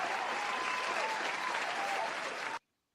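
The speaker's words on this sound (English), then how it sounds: "Let me get your round of applause." Sustained applause from a panel audience on a boxing talk show, steady and fairly full for a couple of seconds before cutting off abruptly.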